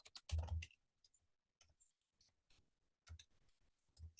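Quick bursts of keyboard typing, clattering keystrokes in short clusters separated by pauses, close and fairly quiet with no talking.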